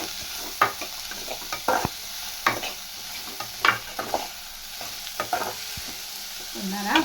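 Salted onions sautéing in a pan, a soft background sizzle broken by repeated spatula stirs and scrapes, close and irregular.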